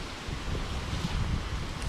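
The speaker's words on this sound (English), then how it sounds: "pretty windy day out." Wind buffets the microphone outdoors on a blustery day at a trapping site, producing low rumbling gusts and rustling that stay steady through the short stretch, with no talking.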